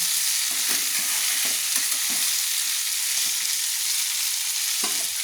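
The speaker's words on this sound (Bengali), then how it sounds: "দিয়ে আবারও বরবটি আলুটা আমি ভালো করে নেড়ে নিচ্ছি।" Fried potatoes and yardlong beans stirred in a pan, giving a steady close sizzle and several light scraping strokes of the spoon.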